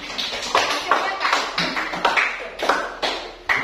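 Classroom applause after a group presentation: a small group claps in uneven bursts, with several sharp, close hand claps repeating at irregular intervals and some overlapping noise between them.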